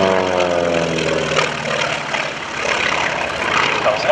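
A Pratt & Whitney 14-cylinder radial engine of about 1,200 horsepower drives an FM-2 Wildcat in flight at an airshow, giving a loud, steady propeller drone with a throbbing pulse that swells and eases slightly, heard alone.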